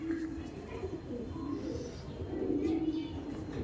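Pigeons kept for racing and show coo softly in a low, throaty murmur, with a few repeated calls close by and a faint background hum.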